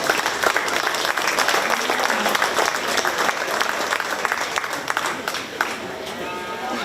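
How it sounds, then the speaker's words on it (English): A crowd at a county fair 4-H/FFA market beef show applauds steadily throughout, a dense wash of clapping from many hands. "Let's give a round of applause to all these exhibitors."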